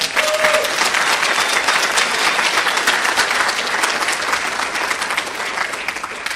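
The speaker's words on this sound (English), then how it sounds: "Let's give him a big round of applause." A loud, dense round of applause from a college speech night audience for a student volunteer, sustained crowd clapping that fades gently toward the close.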